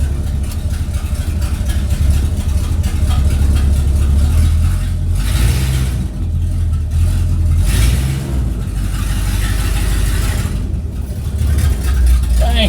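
A 1964 Ford Galaxie 500's engine runs just after starting, a loud, close, rumbling idle that rises and falls in several revs over about thirteen seconds.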